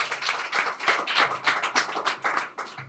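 A church congregation claps in quick uneven bursts, fairly close and loud, in a rhythmic patter of hands with no speech over it.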